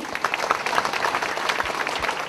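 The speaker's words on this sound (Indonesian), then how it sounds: "sekali lagi tepuk tangan untuk Ajahn Brahm" A seated audience applauds a visiting Buddhist monk after a dharma talk, moderate steady clapping at a modest distance that continues evenly throughout.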